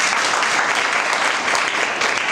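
An audience at a Saturday church meeting claps together, a brief, dense burst of steady applause with no speech over it.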